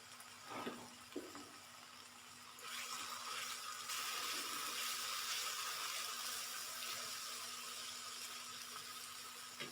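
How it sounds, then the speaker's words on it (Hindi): Water poured into a pan of cooking masala for a tinda sabzi, a steady hissing, splashing rush that begins after a couple of small clinks and keeps going. "तो हम इसमें थोड़ा सा पानी भी शामिल करेंगे।"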